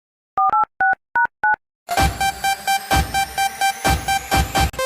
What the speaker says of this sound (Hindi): जरा फोन लगा के देखो ना।